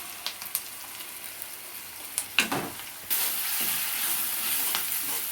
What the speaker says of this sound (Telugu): బాగా వేయించు నూనెలో బాగా వేయించుకోవాలి ఈ మసాలాలన్నీ నూనెలో